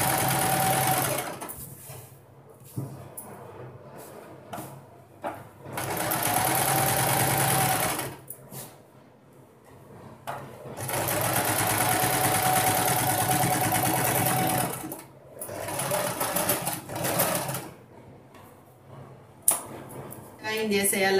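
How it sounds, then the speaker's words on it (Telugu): A sewing machine runs in long stitching bursts, folding over and sewing the waistband of full-circle palazzo pants, with short pauses between runs; no one speaks. "ఈ నడుం పట్టి దగ్గర ఇలా మడిచేసి పైన స్టిచ్ వేస్తున్నామండి."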